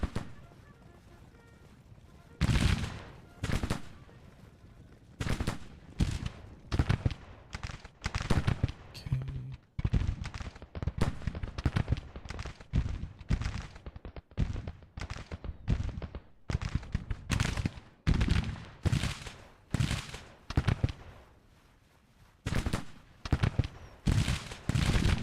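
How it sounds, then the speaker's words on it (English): Confederate troops under Colonel Albert Price fire Fayetteville rifles in massed Civil War volleys in a strategy game battle near Washington D.C. Dense, loud rolling crackle of many shots, repeated bursts filling the scene, with a faint voice underneath. "Colonel Albert Price's troops firing their Fayettevilles"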